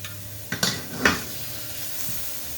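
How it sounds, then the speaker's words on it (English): A tablespoon of butter dropped into a pan on low heat gives a few clattering, sizzling bursts close by, then settles into a soft, steady hiss. "I'm also going to put a tablespoon of butter into the pan."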